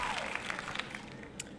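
Live studio crowd applauding, a dense, steady patter of many hands clapping throughout with a few sharper claps standing out, fairly close and continuous.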